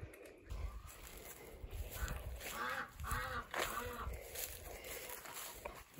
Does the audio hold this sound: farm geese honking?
yes